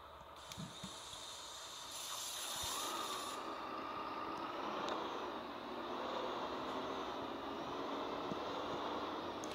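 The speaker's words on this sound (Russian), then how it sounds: "звуки двигателя слышны" A Solaris Urbino 10 city bus engine hums as a low, steady drone in the PBSU bus simulator game on the Fiktivdorf map, with faint mechanical clicks and a brief hiss early on, and no one speaking.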